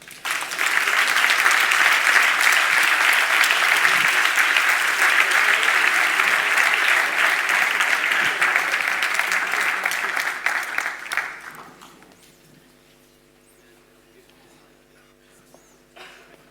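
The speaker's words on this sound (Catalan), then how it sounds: "Un aplaudiment." Audience applause fills a hall at a public event marking 25 years of door-to-door waste collection in Catalonia, steady and loud for about eleven seconds before fading out into quiet room tone.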